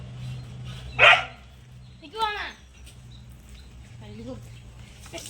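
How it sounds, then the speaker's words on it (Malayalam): A single short dog bark stands out over a steady low hum, followed later by faint whining or yipping sounds, with quiet background noise. "നായല്ലേ"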